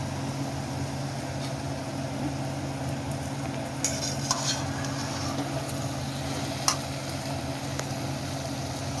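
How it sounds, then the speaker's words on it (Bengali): Ground beef mince being stirred in a pan, a steady low sizzle and hum with a few faint scrapes and clicks scattered through, moderately quiet and close. "কিমা দিয়ে আমি একটু নেড়ে দিচ্ছি"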